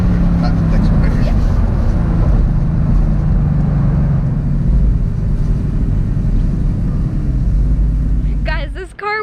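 A 2018 Mercedes-AMG GT C Roadster cruising, its engine a loud, steady low rumble with road and wind noise throughout, easing off briefly near the end.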